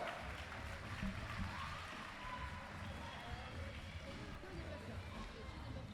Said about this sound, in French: Applaudissements pour Dorian.